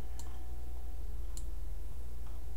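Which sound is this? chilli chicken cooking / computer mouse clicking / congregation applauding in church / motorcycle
computer mouse clicking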